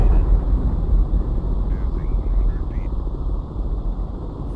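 Military helicopter in the submarine game Cold Waters: a steady, loud rotor and engine drone with low rumble persists throughout, without pause and with no one speaking over it.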